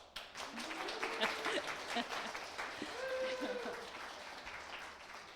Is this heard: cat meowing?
no